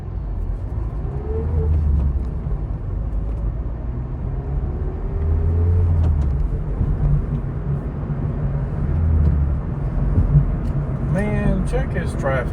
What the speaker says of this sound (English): Man, check his traffic out.